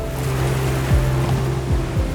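Ocean surf off Lofoten in Arctic Norway on a dark, cold day: a continuous close wash of breaking waves and rushing water, with a low steady engine-like hum beneath and no voices.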